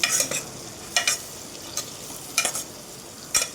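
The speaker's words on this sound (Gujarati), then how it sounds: "ત્યારબાદ આપણે સ્વાદ અનુસાર મીઠું એડ કરીશું અને તેને આપણે બરાબર હલાવી લઈશું" Vegetable pulao being stirred in a pan after cumin powder and salt go in, with a few short scraping bursts of the spoon spaced apart over a faint steady sizzle, close and fairly quiet.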